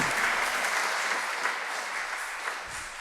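A church congregation applauds during Sunday Mass, with sustained, dense clapping filling the space evenly for the whole stretch and no voices over it.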